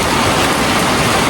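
Heavy rain pours steadily in Davao, a dense, even roar of water falling on surfaces at close range, continuous and unbroken, with no voices.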